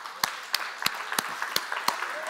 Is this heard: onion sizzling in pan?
no